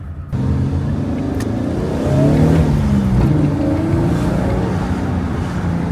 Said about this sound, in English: I wonder how the microphone picks up the engine sound.